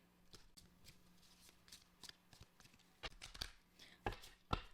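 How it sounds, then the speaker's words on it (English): Tarot cards are shuffled close by in a run of quick, papery riffles and taps that grow louder and sharper toward the end, with no voices. "I'm shuffling the cards."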